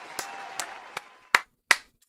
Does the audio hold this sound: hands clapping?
yes